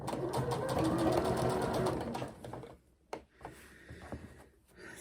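A domestic sewing machine stitching fabric advent calendar pockets runs close and steady for a couple of seconds, then stops, leaving a few light mechanical clicks and handling noises.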